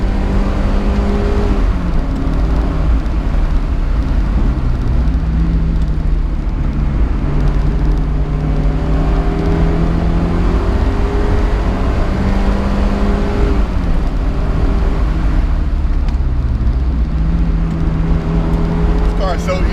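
A 1990 Mazda Miata NA drives through twisty roads, its engine note climbing and falling through gear changes with repeated revving sweeps, loud and close from inside the car.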